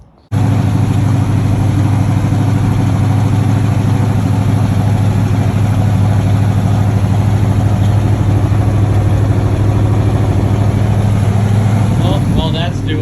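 Engine of a 1978 Chevrolet Nova running steadily and loudly close by, a constant low idle-like drone that holds without a break for the whole stretch.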